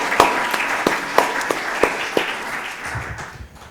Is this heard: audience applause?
yes